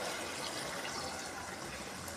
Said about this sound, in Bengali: জল দিয়ে দিয়েছি, একটু সেদ্ধ হোক